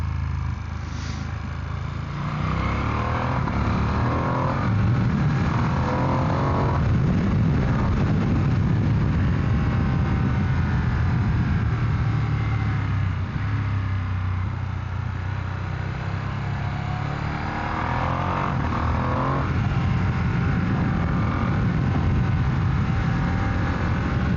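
A 2025 Ducati Streetfighter V2S motorcycle being ridden on warm tarmac, its engine note and wind rush sustained and loud throughout, rising and falling with throttle changes.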